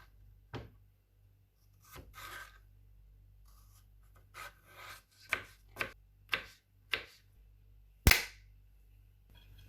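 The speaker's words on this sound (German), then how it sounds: "Und die werden jetzt natürlich auch alle noch klein geschnitten." Potatoes chopped with a knife on a board for a pumpkin recipe: a run of sharp, evenly spaced thuds, about five in quick rhythm, with scattered softer cuts and scraping before them, close and clear with no talk.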